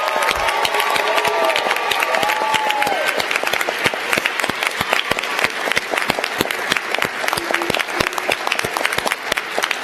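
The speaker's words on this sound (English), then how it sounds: "let's offer a big round of applause to the entire group" Audience at a midyear graduates recognition ceremony applauds the whole group in long, loud, sustained clapping, with distinct individual claps standing out and some cheering near the start.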